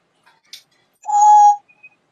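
A parrot imitating the sound of water with its voice: a few faint clicks, then one loud, sustained, whistle-like tone lasting about half a second, close and alone with no talking.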